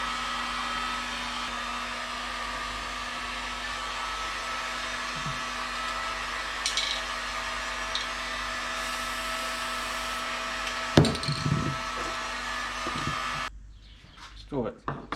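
A heat gun blows steadily on a freshly painted brake part, a constant whirring hiss heard near and alone, with a few clicks and knocks toward the end before it cuts off.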